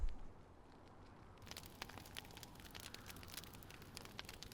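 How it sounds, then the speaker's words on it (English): Crackling campfire in the video game Final Fantasy 16, soft scattered pops and snaps over a low steady hiss, faint and continuous with no talk. "there are few sounds greater on this planet than the crackling of a campfire"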